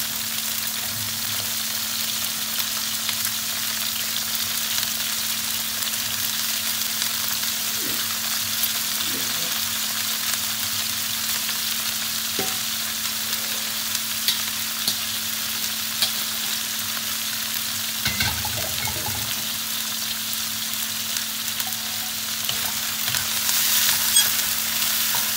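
Broccoli stir-frying in a pan for shrimp broccoli, a steady close sizzle throughout with occasional soft scrapes and knocks of stirring, and a constant low hum underneath.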